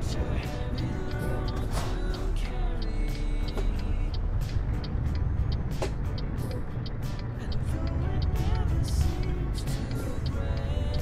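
A truck in Euro Truck Simulator 2 drives on steadily with a continuous low engine drone and road rumble, plus scattered clicks and short hissing bursts, while background music-like tones and a voice come and go faintly.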